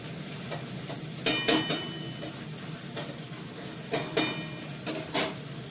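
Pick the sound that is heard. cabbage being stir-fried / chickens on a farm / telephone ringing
cabbage being stir-fried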